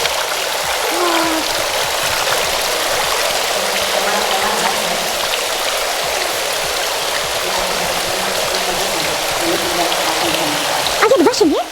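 Fresh mountain water runs steadily from a hand-washing fountain at Heiligenkreuz Abbey near Vienna, a constant close splashing rush under occasional voices, with a brief clatter at the end.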